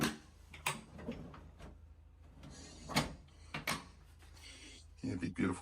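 Drawers in a 2025 Meridian 30 motorhome sliding open and shut, several sharp knocks and clunks spaced irregularly, close by, with a person talking between them.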